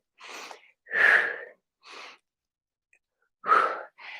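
Forceful breathy exhalations and sharp inhales from someone mid-workout during a low-impact resistance band session, several close bursts separated by silence.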